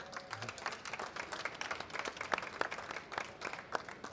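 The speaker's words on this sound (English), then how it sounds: "So I beg you for a warm applause for" Scattered clapping from a seated conference audience at an anniversary event, individual hand claps clearly separated and irregular, moderately faint with no talking over it.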